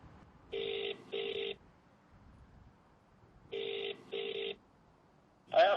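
A telephone ringing in two paired double-ring bursts spaced a few seconds apart, moderately quiet against a low background hum, with a brief clatter at the end as the call is picked up.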